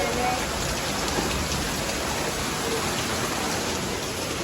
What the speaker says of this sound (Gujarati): વરસાદ આવે છે ગાઈસ વરસાદ તો બહુ છે